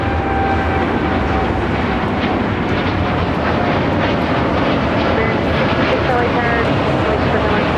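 United 787-9 Dreamliner departing, a broad steady jet roar holding at high loudness throughout, with a voice talking over the engine noise.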